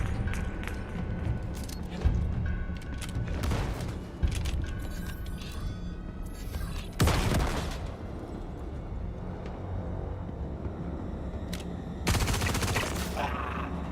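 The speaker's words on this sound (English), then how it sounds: "Two unnecessary grenades, but I wanted to do it for dramatic effect" Grenades go off in the game Star Citizen: several sharp, near blasts spaced a few seconds apart, each standing out sharply over a steady rumbling background.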